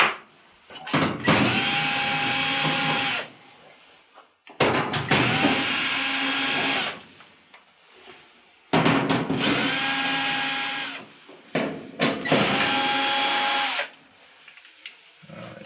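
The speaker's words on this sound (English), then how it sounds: "now I'm going to go ahead and take out the 9 screws that hold the back panel in place" A power drill backs out the nine screws on the rear panel of a Whirlpool dryer that is not heating. Four separate whirring bursts, each a few seconds long, come through loud and close with short pauses between them.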